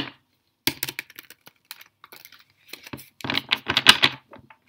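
Tarot cards being shuffled by hand during a reading, a run of crisp flicks, taps and riffling bursts, sparse at first then a denser flurry of rapid card slaps near the end, close and dry.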